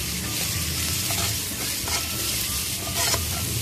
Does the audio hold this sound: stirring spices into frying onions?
yes